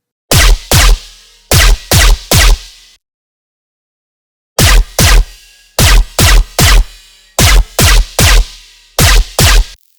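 Subby dubstep gun bass synth built in Serum, noisy and distorted with low end cut, firing in loud punchy bursts of two to four hits, grouped with a short gap of silence between groups.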